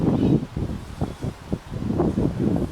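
Wind blowing outdoors at Beauchief Abbey in Sheffield, heard as low, rumbling gusts that buffet the microphone in uneven bursts.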